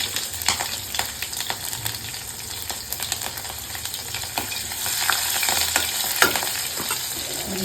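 Ingredients frying in a pan for a sprouts breakfast, a loud close sizzle with repeated scraping stirs and spatula taps scattered across the whole stretch.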